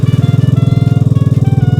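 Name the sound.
Vespa Primavera engine idling with Polini camshaft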